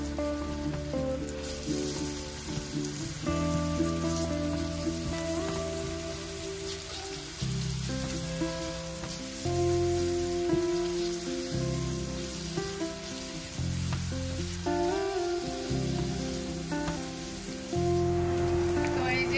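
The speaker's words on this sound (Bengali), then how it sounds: "পেঁয়াজগুলা আর রসুনগুলা এরকম ভাজা ভাজা হয়ে গেছে" Chopped onion and garlic frying in mustard oil, a soft continuous sizzle with a rain-like crackle, steady throughout under background music.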